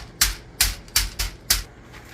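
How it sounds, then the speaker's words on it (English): Chicken breast pounded thin between two sheets of parchment paper, five sharp, evenly spaced thuds with a brief pause between each, close and fairly loud with no talking. "just put it between 2 parchment papers, just like this. And you want to pound it out thin enough till it's about 1/4 inch thick"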